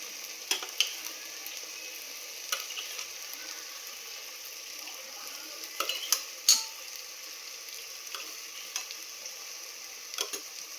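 Beaten yogurt sautéing in oil in a pan, a steady soft sizzle with occasional light clicks and scrapes of a spoon, close and continuous.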